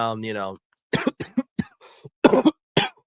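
A person coughs repeatedly in short, harsh bursts with pauses between, close by, after a brief voiced sound at the start.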